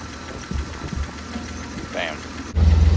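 A car engine cranks briefly, then catches and settles into a loud, steady, throbbing idle close by, with quieter shop noise and a brief voice beforehand.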